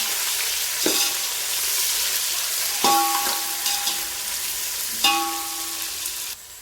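Plenty of onions with green chillies frying in oil for egg biryani, a loud steady hiss and crackle punctuated by three or four sharp metallic stirring clanks, heard up close with no voices.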